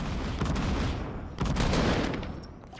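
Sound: grenades exploding in the video game Fortnite

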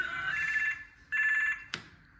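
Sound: telephone ringing

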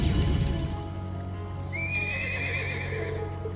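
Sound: horse neighing and hooves clip-clopping in a video game

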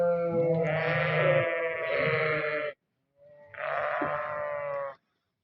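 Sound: flock of sheep bleating at feeding time

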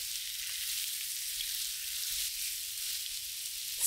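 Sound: pork ribs searing with salt, pepper and sugar

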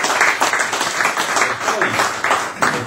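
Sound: applause for Eleonora

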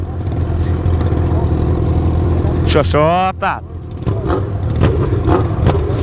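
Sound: Honda CB1000 motorcycle revving with straight-pipe exhaust

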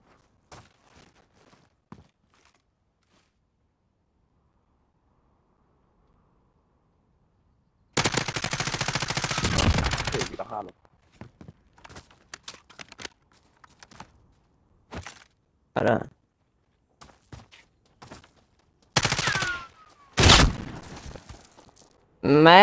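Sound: shotgun gunfire in a video game

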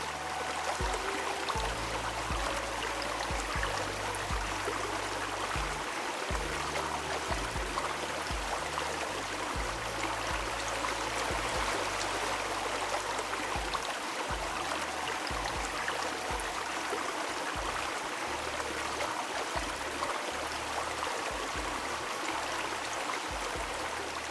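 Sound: babbling stream in Konkan farmland

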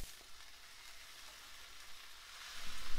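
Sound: corned beef frying in a pan with onions

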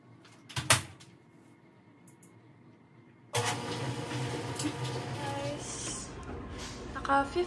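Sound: clothes dryer running

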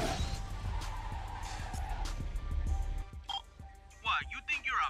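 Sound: cars racing in video game Midnight Club 3 Dub Edition Remix

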